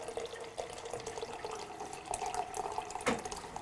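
Water runs from a small valve into a graduated cylinder while black-and-white film developing chemicals are measured out: a steady trickling flow, close and fairly quiet, with a few brighter splashy surges along the way.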